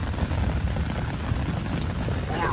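Steady rain falls during a thunderstorm beside a big muddy ditch, a dense, even patter close by and continuous throughout, with no voices.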